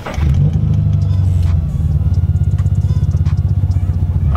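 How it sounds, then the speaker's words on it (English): A Subaru BRZ or Scion FR-S engine cranks and starts, then idles with a rapid, pulsing throb and light revving, loud and close, with a brief voice at the start. "I wanna start the car, drive around with this off"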